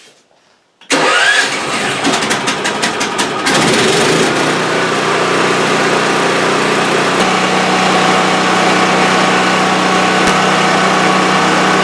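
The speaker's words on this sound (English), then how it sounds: "I'm going to start her up now. So the choke is on, fuel is on." Portable generator engine pulled into life with the choke and fuel on, catching abruptly after a brief quiet and then settling into a loud, steady running drone.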